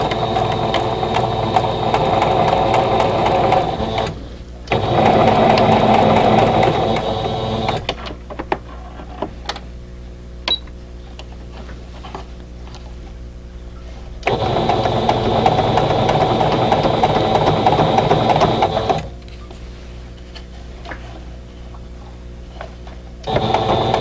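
A sewing machine stitches a vintage quilt block in steady, continuous runs, pausing briefly between bursts of close, even mechanical whirring.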